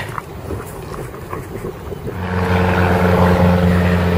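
A small pirate-style boat's outboard motor hums steadily, rising in loudness partway through, with wind and water noise around it.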